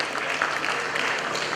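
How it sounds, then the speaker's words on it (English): Applause from the audience at the 29th GJA Media Awards, a steady wash of clapping from a crowd filling the hall, moderately loud and continuous without any speech over it. "Shall we do a big round of applause for the team for achieving this very important feat?"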